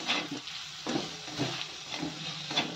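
Diced red pumpkin, salted, frying in a pan for a Maharashtrian fasting-day bhaji, with a steady soft sizzle and occasional scrapes of a stirring spoon against the pan.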